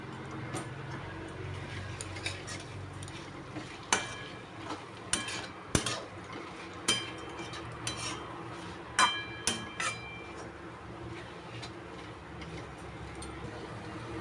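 Small kuchó shrimp being turned over and fried in a pan with added mustard oil: a low steady sizzle with scattered sharp spatula clicks and taps against the metal, close and moderately quiet.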